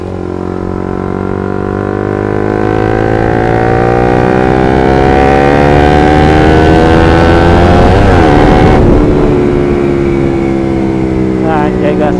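A motorcycle engine, ridden on a clutch-operated bike, holds a loud steady drone then blips and drops in pitch through a rev-matched downshift, with the revs rising and sweeping close up.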